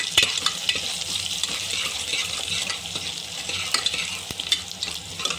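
Chopped onions with a pinch of salt fry steadily in a pan, giving a continuous bright sizzle with occasional sharp scrapes and knocks as they are stirred.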